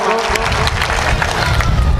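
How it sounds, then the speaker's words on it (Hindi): A live audience at a Hindi humorous poetry recital bursts into applause for the poet, a loud, dense wash of clapping with some crowd noise that holds steady throughout. "एक बार तालियां उठाइए"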